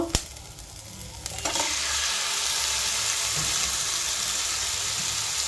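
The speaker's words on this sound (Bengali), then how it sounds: "ভাজা চলছে, এবার এখানে এটাতে দিয়ে দেব" Chicken frying in a pan: a soft clink at first, then from about a second and a half a steady, loud, broadband sizzle that holds evenly to the end, with no talking.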